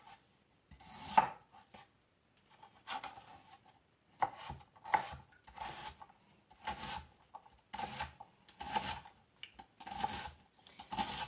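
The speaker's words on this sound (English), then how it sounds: "I'm having a hard time looking at the camera and chopping at the same time" A knife chops vegetables for soup on a cutting board in a home kitchen, with a brisk series of crisp close taps coming in uneven bursts and short pauses between them.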